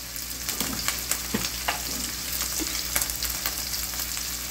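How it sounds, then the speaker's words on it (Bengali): Shrimp frying in oil with salt and turmeric, a steady close sizzle broken by scattered crackles and a few soft clinks of a utensil against the pan, with no talking. "লবণ হলুদ দিয়ে চিংড়ি মাছটা ভেজে নিয়ে নেবো।"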